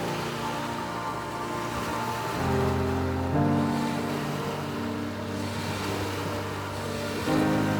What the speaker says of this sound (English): Gnarled driftwood lines the shore as the sun dances on the waves.